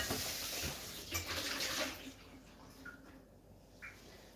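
Running tap water as something is rinsed while making ramen in a kitchen, a steady splashing flow that fades out midway, followed by quieter clatter and faint room noise.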